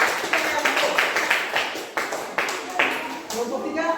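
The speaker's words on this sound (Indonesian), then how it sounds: "Oke, tepuk tangan." Students in a classroom clap their hands in a lively burst of applause, a dense run of close handclaps with uneven rhythmic peaks, voices mingling underneath.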